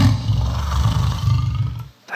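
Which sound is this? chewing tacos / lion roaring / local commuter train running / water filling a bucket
lion roaring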